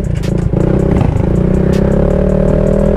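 A Honda PCX 160 scooter and a Motorstar Explorer 250 motorcycle rev loudly side by side at the start of a drag race, engines droning steadily close up with a brief clatter at the launch.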